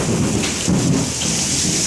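A thunder rumble rolls through a downpour of heavy rain, with loud steady rain noise throughout and the deeper rumbling swelling and easing beneath it.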